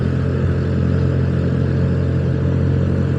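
A group of six or seven motorcycles riding through a forest at night, a loud continuous engine drone with steady low rumble and wind noise, close and unbroken.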